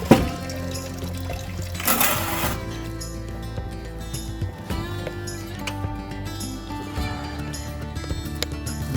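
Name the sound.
maple sap siphoned through a garden hose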